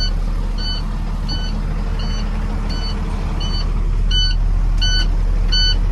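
Box truck idling as its air brakes fill, with a rumbling engine under repeated electronic warning beeps in a regular rhythm that grow slightly louder toward the end.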